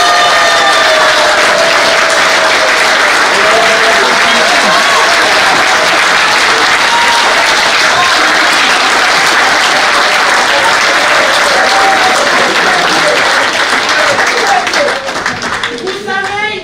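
Loud, sustained audience applause fills a conference hall, a dense wash of clapping with cheering and voices mixed in throughout before it thins slightly at the end.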